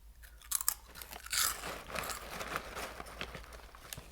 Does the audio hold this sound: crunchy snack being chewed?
yes